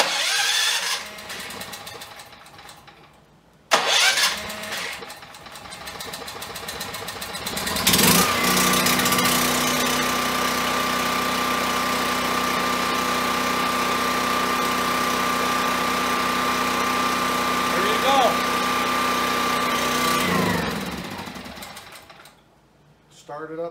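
A Pulsar PG6580E generator running on propane is cranked after a click, catches and settles into a loud, steady engine drone with a constant hum, running for about twelve seconds before cutting out; someone talks briefly before it starts.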